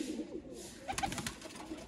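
Sialkoti Ali Wale pigeons giving a soft, low cooing call, faint and nearby, with a few short bursts of rustling or fluttering partway through.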